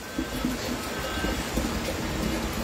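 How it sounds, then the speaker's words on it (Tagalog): Steady rain falls in a continuous, even hiss, a moderately loud wash of drops with no voices and no pauses. "Pag-ulan yan dito."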